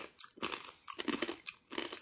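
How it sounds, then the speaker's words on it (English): Close, crisp crunching of corn nuts being chewed, in three loud bursts separated by brief pauses. "you're going to hear crunching in this episode"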